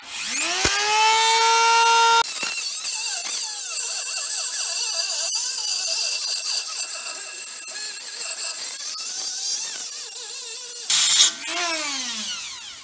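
A Dremel rotary tool with a cutting wheel grinds diagonally into a steel wheel bearing inner race, a loud, steady high-pitched whine that spins up, holds with a shifting buzzy scrape for about ten seconds, then winds down.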